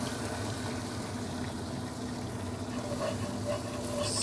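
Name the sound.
ground beef browning in a pan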